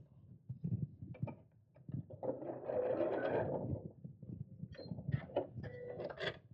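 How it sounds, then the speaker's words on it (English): A sewing machine stitches elastic onto a fabric purse organiser in short, uneven bursts with small handling clicks between them, close and fairly quiet. "And then I'll sew this end of the elastic in place"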